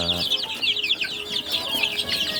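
Black Australorp and Rhode Island Red chickens clucking and murmuring close by in a continuous chatter of overlapping calls from a flock.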